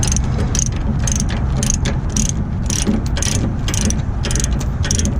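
Ratchet chain binder tightening a chain that secures a vehicle on a trailer, a loud, steady run of rapid metallic pawl clicks throughout, close up.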